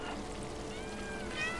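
A cat meows in the video game Stray, with a clear tonal meow rising near the end over a steady background ambience.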